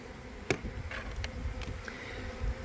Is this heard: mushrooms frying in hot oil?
no